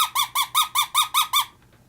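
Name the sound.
predator hunting call squeaks to lure fox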